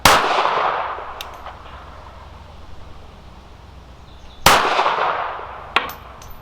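Two sharp pistol reports from a Ruger LCP II .380 fired outdoors at a steel head flipper target, each a loud crack with a long decaying echo, the second followed moments later by a faint distant clang.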